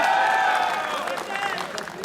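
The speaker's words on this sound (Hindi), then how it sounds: "एक बार फिर से ताली बजा दो" Audience claps and cheers at a comedy storytelling show, a dense burst of applause about two seconds long, fairly loud and steady with crowd noise mixed in.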